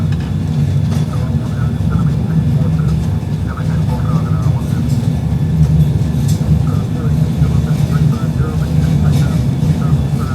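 Boeing 737-800 jet engines at takeoff thrust during the takeoff roll at Dubai International, a steady heavy roar and rumble heard from the cockpit, with voices talking over it.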